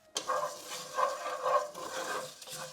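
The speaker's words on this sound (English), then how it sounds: "I'm going to add a tablespoon of sesame seeds" Sesame seeds fry with spices in one pot for masala rice, a soft continuous crackle and sizzle starting abruptly and rising and falling in gentle waves.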